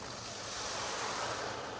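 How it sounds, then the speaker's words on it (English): Cornstarch-thickened sauce is poured over chicken in a hot pan, giving a steady, fairly loud broadband hiss and sizzle that holds evenly for the whole moment with no voices. "We're gonna give it a whisking just to make sure that cornstarch didn't settle. And we're just gonna pour it over top the chicken."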